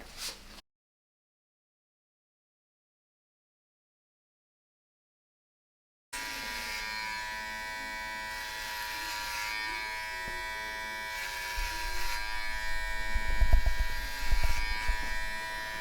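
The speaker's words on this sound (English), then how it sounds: "They want you to use freehand clipper cutting throughout the entire nape area." Electric hair clippers buzz steadily while cutting freehand through the nape area of a mannequin for a tapered barber haircut, starting after a long silence and holding close and continuous, with a brief thumping swell near the end.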